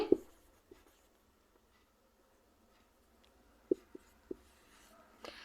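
A maths solution is written by hand on paper. A few quiet pen scratches and taps are spaced apart, with a long near-silent pause between the early and late strokes. Close and soft, no voices.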